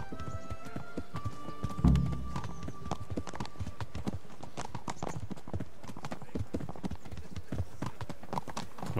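Horse hooves clip-clop in a steady, brisk rhythm, close and clear, with a brief louder thump near the start and faint background ambience, from the video game Kingdom Come: Deliverance.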